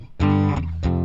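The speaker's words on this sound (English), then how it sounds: "I recorded a little bit of a guitar track" Recorded rhythm guitar chords, two strummed chords in close succession, each a bright ringing attack that sustains and decays, played alone and up close.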